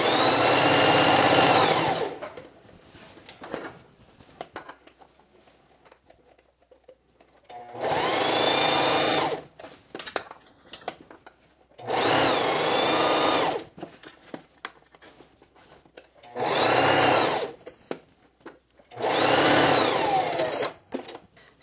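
A sewing machine runs understitching along the bias on a sheath dress in five separate loud bursts of steady whirring, each about one to two seconds long, with quiet handling sounds between them.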